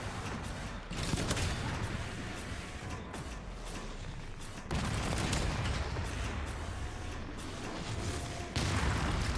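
Gunfire in the video game Resident Evil 9 Requiem: repeated loud, sharp shots and bursts in quick succession, with a few heavier volleys standing out over steady game noise.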